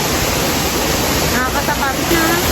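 El Kabayo waterfall pours in a steady, broad rushing hiss close by, with faint voices briefly audible over it.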